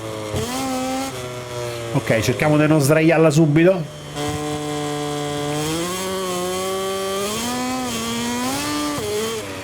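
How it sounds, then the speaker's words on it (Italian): A KTM motorcycle engine drones and revs in MotoGP 24, pitch rising and falling through gear changes, while someone speaks briefly over it. "per farvi sentire il sound del motore KTM, che è molto bello"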